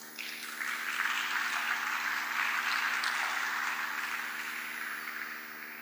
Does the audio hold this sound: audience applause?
yes